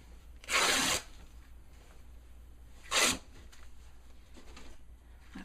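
Fabric ripped by hand into a strip, two loud, close tearing bursts, the first lasting about half a second and the second shorter, with soft rustling between them.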